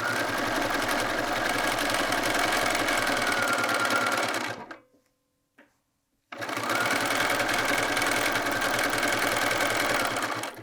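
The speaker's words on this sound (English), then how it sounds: "We're just going to sew down the center to the dart point" A sewing machine set to a wide zigzag stitches down the center of a dart on a quilted jacket in a loud, close, steady run that stops for about two seconds and then resumes just as steadily.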